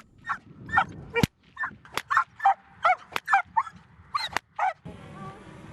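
Dog barking and yipping in quick bursts beside a shepherd swinging a whip with a flock of sheep on the Hungarian plain, about a dozen sharp close barks in a rhythmic series with a few loud cracks between them.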